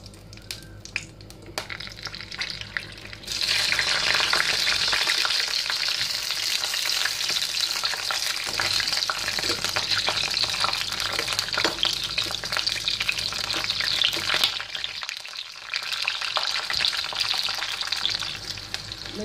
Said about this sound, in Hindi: तेल गरम हो गया है, मिर्ची को फ्राई कर लेंगे।